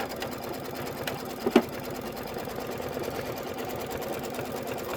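A sewing machine hums along doing background quilting on a quilt block, a fast, even rattle of stitches close by with a brief louder knock partway through.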